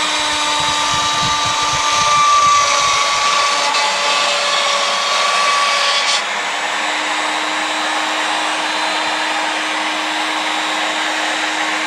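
A router-type power tool spins a bit cutting a slot, a steady high whine that carries loudly throughout, with rough grinding texture early on and the pitch shifting slightly midway.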